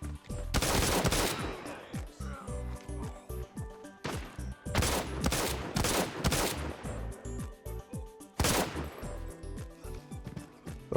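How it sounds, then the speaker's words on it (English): Rapid bursts of close gunfire crack in a mobile Arena Breakout firefight, clustered volleys with short pauses between them, loud and sharp against a quieter background. "And you just kind of see me get stuck in this gunfight."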